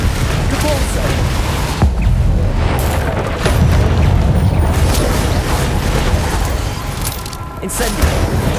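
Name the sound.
spell blasts and explosions in video game Hogwarts Legacy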